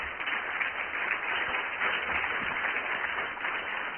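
An audience at an awards presentation applauds in a sustained, even wash of clapping that lasts throughout, with no one talking.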